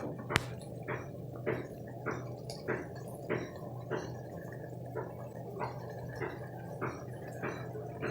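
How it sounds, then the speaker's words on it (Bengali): A pot of dried Bombay duck (lote shutki) fish curry bubbles on the stove. Soft, wet blips pop at a steady pace, about one every half second, close and quiet, with no voices. "ঝোলটা ফুটে গেছে।"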